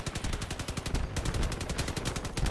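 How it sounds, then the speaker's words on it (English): Rapid cannon fire in the vehicle combat game Crossout, a dense run of sharp repeated blasts in quick rhythm, loud and continuous for a couple of seconds with only a brief gap. "That's a lot of cannons."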